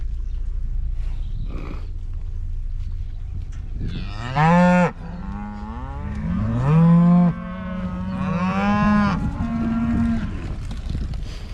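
Cows on a fly-plagued farm pasture low several times, long mooing calls close by between quiet stretches, with no one speaking.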